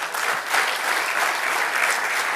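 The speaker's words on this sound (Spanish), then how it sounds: "Denle un aplauso al Señor." Steady applause from a church congregation fills the space, a dense continuous wash of clapping at even loudness throughout, with no voices standing out.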